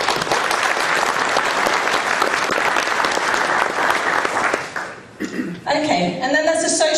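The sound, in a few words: audience applause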